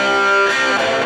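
Electric guitar playing a classic rock riff, a distorted root note struck over a power chord, loud and crunchy with ringing overdriven harmonics, a short burst of two chord hits.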